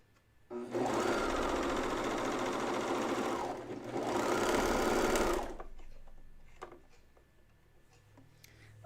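Baby Lock coverstitch machine stitching a pajama top neckline binding in two fast, even bursts of whirring with a brief pause between, then light ticks and handling noises as it stops.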